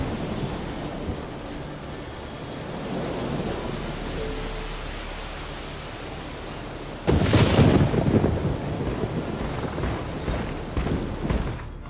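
Storm weather in The Witcher 3: steady rain hisses throughout, then a loud thunderclap crashes in partway and rumbles on, fading slowly beneath the continuing downpour.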